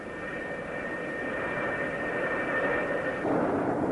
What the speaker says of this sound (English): the deck director signals the pilot to run his engines up to takeoff power